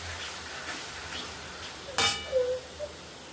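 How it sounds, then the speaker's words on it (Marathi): Spicy masala stirred in hot oil for mutton curry, a soft steady sizzle with a brief sharp clink of a spoon against the pan midway, close and quiet. "हे मस्त मसाला इथे मिक्स करून घ्यायचं तिखट मसाल्यांमध्ये तेलामध्ये"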